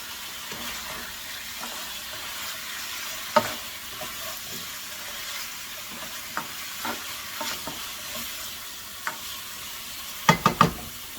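A soy-sauce stir fry sizzles steadily in a hot pan, with occasional louder clacks of a utensil stirring and scraping, no talking over it.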